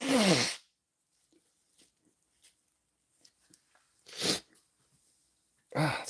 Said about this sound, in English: if suddenly you're sneezing, can't do much about that